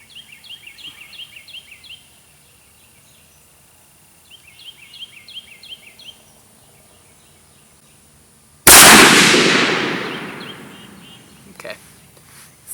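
.20 caliber rifle firing a single loud, sharp shot that rings and decays after a stretch of quiet chirping birds, with a faint voice afterward.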